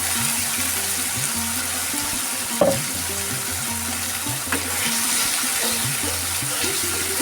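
Water running and splashing to rinse leftover masala out of a grinder jar in a home kitchen while cooking mutton keema, a steady close rushing with a couple of sharp knocks.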